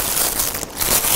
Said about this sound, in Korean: 비닐봉지 안에 주유기를 넣어서 비닐봉지를 뚫어줍니다